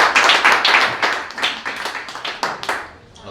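A small audience applauds the cannabis company president being introduced, loud clapping in uneven bursts from a modest group that thins and fades toward the end.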